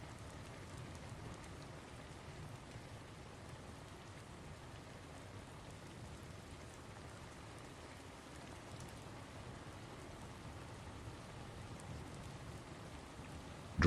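Rain falls steadily, a soft even hiss of drops hitting a surface, faint and unchanging throughout with no voices.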